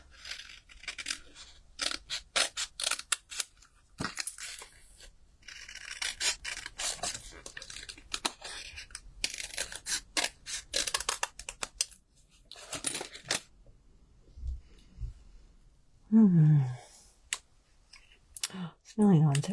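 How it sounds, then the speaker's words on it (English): Scissors snip through card stock in short bursts of crisp cutting and rustling, close and fairly loud, broken by pauses and some quiet handling sounds. "I'll cut through that line there."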